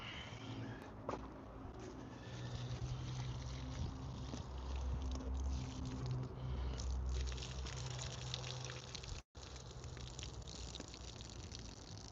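Rinse water for washing starch off cut food, poured out in a steady gushing stream lasting roughly twelve seconds, loud and close, with one abrupt break near the end and no voices.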